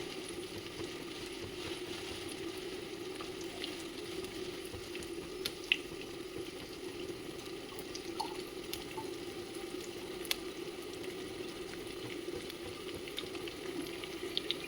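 Oil sizzles and spatters steadily in a pan while mint chutney is prepared, with curry leaves among the ingredients; a dense, even frying hiss with occasional sharp pops, close and fairly quiet, with no voices.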